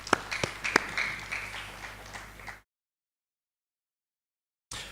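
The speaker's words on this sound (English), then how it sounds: "A warm round of applause to her as well." A round of applause at a stakeholder dialogue event honoring a panelist, a brief burst of scattered clapping and a few sharp claps in a hall, then silence before another clap at the end.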